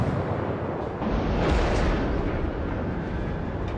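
Torpedoes launch from the IJN Katori, a Tier 3 Japanese cruiser, in World of Warships, heard as a broad, rumbling whoosh that swells around the middle and fades under steady battle noise, with no talking.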